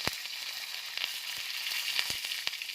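Urad dal, dry red chillies and curry leaves fry in hot oil with a dense, bright sizzle and sharp crackling pops, close and constant, with no voice over it.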